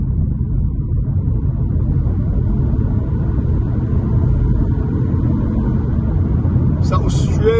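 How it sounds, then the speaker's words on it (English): Toyota Yaris Cross Excel hybrid accelerating briskly in normal drive mode: a steady, loud low road and engine rumble from inside the cabin, continuous throughout with no change in level, plus a brief higher noise near the end. "So we'll accelerate from here briskly."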